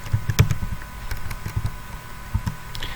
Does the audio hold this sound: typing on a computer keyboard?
yes